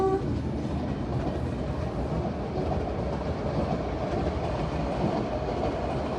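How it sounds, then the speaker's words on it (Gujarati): A small metre-gauge train rolls past a level crossing up close, a loud, steady rumble of wheels and wagons with a brief horn note at the start, continuous for the whole stretch. "જો આઈ આ નનકી ટ્રેન"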